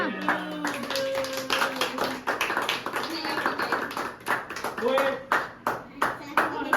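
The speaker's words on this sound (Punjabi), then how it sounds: "ਤਾੜੀਆਂ" A family gathering at the maternal grandparents' home claps to welcome a newborn, with a run of nearby hand claps, loose at first and then a rhythmic burst, mixed with chatter.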